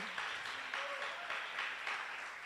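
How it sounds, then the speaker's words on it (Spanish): A church congregation claps for the Lord during a Spanish-language service, steady rhythmic applause heard at a moderate distance. "Dele un aplauso muy fuerte al Señor."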